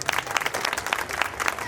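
Applause from a crowd at a Navratri garba celebration in a housing society, a dense, steady patter of many hands clapping close by, with faint voices mixed in.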